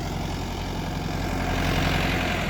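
A 50 horsepower Mahindra tractor, just unhitched from its plough, idles close by with a loud, steady low rumble and rattle that rises slightly toward the end. No one speaks.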